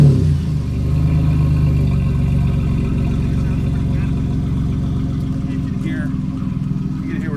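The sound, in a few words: 2000 Camaro engine starting with fake dual exhaust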